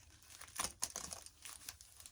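Plastic bag wrapping on a Durafly T-28 Trojan model plane crinkles close up in a few quiet, irregular bursts during unboxing, with no voices.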